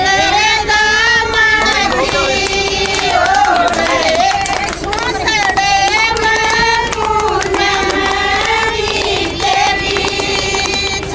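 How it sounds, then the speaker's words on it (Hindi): Crowd clapping at a village election rally for a district council candidate. The applause is mixed with loud music and babble, and a voice talks over it throughout. "ताली बजाओ, ताली।"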